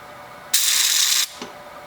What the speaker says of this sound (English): now we'll just pull the trigger and do kind of a little spot weld just as a test